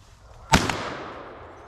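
A single sharp gunshot rings out during a squirrel hunt, one loud crack with a short echoing tail fading into the quiet woods, no talking.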